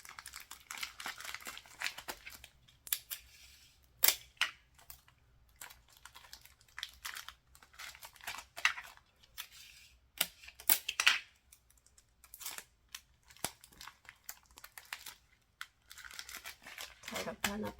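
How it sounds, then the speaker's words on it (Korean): Plastic zip bags rustle and crinkle as they are taped down and wrapped in vinyl, with brief tape tearing and crackling bursts scattered unevenly through the stretch, fairly close and moderately quiet. "위아래 좌우로 지퍼백이 뜨지 않게 붙여서 비닐을 고정시켜 줍니다."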